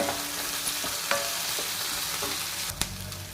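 Onion and curry leaves sizzle steadily in hot oil for tempering, a dense continuous frying hiss broken by a few sharp scrapes and clinks of a stirring spoon against the pan, close and fairly loud, no talking.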